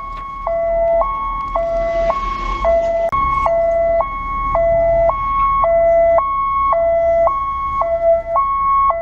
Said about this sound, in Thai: รถกู้ชีพที่เปิดเสียงหวอ